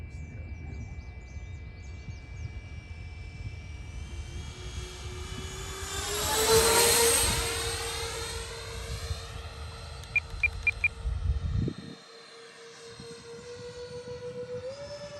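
Freewing F-14 Tomcat twin 80mm electric ducted-fan RC jet flying a landing approach, a high whining turbine-like tone that swells and Doppler-shifts as it passes close overhead, then recedes and fades, with brief wind buffeting.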